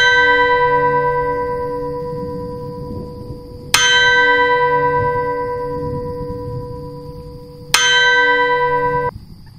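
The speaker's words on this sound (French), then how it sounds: "on entend la cloche de l'école sonner." A resonant bell tolls three times at slow, even intervals, each strike bright and close with a long ringing decay that fills the gaps, heard alone with no voices.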